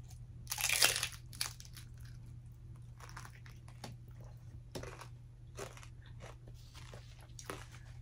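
A crunchy quesabirria taco dipped in consommé is bitten with a loud, close crisp crunch near the start, followed by quieter, intermittent chewing and soft crackles.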